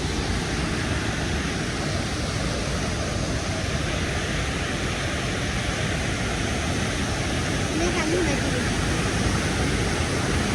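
Dunhinda waterfall near Badulla roars as a dense, constant broadband rush of falling water, loud and unbroken throughout.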